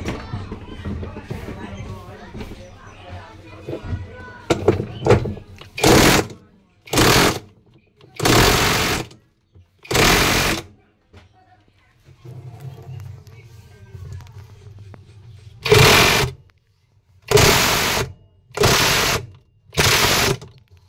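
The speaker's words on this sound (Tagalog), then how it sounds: "gamitin ko itong aking power tool para higpitan yung tornilyo" A power tool tightens a screw on an Electrolux automatic washing machine during a repair. It gives about eight loud whirring bursts, each roughly a second long, separated by pauses, after some mechanical clatter and talk at the start.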